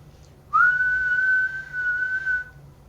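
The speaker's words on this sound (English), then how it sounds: "he keeps hearing a whistling" A single long whistled tone rises and then holds steady for about two seconds, sounding thin and distant over a low background hum.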